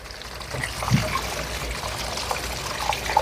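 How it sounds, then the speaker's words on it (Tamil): Water trickles and splashes steadily as cut cassava is rinsed under a running stream, close and continuous. "மரவள்ளி கிழங்கெல்லாம் வெட்டியாச்சு. இனி வடிவா கழுவி எடுப்போம்."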